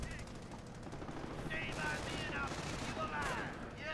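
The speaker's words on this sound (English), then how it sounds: "Alright, MG should open up." Machine gun fire in the real-time strategy game Company of Heroes during a skirmish, a steady rattle of bursts mixed with battle noise and faint radio-style voices underneath.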